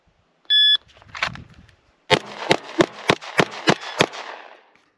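An electronic shot timer gives a single sharp beep, then after a draw from the holster a 10mm pistol fires eight rapid, evenly spaced loud shots outdoors.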